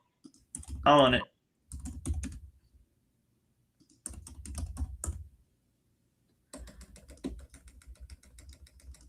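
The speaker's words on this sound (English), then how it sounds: "Can you guys hear me typing when I'm smacking my keys like that?" Bursts of loud keyboard typing, keys smacked hard in quick clusters, separated by short pauses of quiet.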